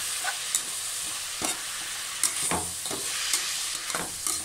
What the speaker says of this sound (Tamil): 1 கைப்பிடி அளவு புதினா, 1 கைப்பிடி அளவு மல்லியில், இது எல்லாத்தையும் நம்ம நல்லா வதக்கிக்கலாம்.